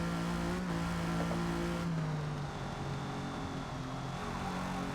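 A race car on a track accelerates out of a turn, its engine note rising and shifting with gear changes, loud and continuous with no talking.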